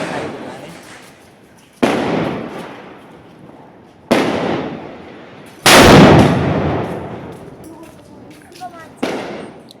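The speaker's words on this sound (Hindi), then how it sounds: "पटाखे जला रहे हैं।" Diwali firecrackers and fireworks bursting at night in a residential street: four sharp loud bangs spaced a couple of seconds apart, each followed by a crackling, fading tail, the third the heaviest.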